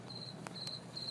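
Crickets chirping in a steady, thin high-pitched trill with short repeated pulses, fairly faint and continuous against a quiet background.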